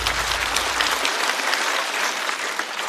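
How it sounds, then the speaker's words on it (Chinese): A stand-up comedy audience claps continuously, a dense, steady burst of applause that stays loud throughout. "再次掌声送给二哥。"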